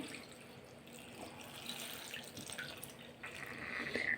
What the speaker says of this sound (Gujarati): આ ગોટલીને ડાયરેક્ટ કુકરમાં બાફવા મૂકવાની છે અને અંદર ડૂબાડૂબ પાણી નાખવાનું છે